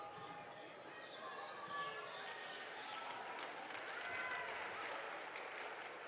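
Bench players and crowd cheer and applaud during a timeout at a Roland vs Antlers basketball game, a steady, rising wash of voices and clapping in a gym with some talk mixed in.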